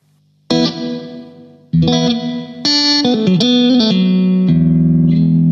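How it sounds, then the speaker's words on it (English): Electric guitar run through an MXR reverb pedal on its plate setting with all knobs at noon, a few plucked notes and chords each followed by a smooth, shimmering decaying tail. "this is the MXR reverb, and what at the moment it's on plate with everything on twelve o'clock"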